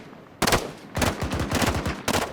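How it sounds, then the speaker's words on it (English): Bursts of automatic rifle fire in the military video game Arma 3, three loud volleys of rapid shots with short gaps between, close and alone with no talk. "Who are they shooting at?"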